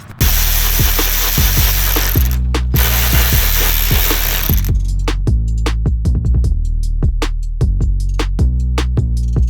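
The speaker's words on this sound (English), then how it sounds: "So with your fancy snap-on ratchet, you can just start taking some of these off." Snap-on ratchet removing 8mm grille bolts on a truck: loud, close, fast ratcheting clicks in repeated bursts, with a harsh mechanical whir through the first half and sharper separate clicks afterward.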